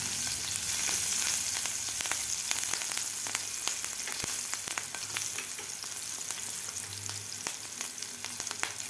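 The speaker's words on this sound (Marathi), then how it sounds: "आता व्यवस्थित आपल्याला हे मिरची थोडीशी परतून घ्यायची आहे." Green chillies and turmeric sauté in hot oil for a potato and capsicum mixed vegetable, giving a steady, close sizzle flecked with sharp crackles and pops throughout, with no voices.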